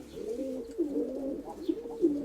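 Pigeons coo softly and close by, a few repeated throaty rolling calls in quick succession.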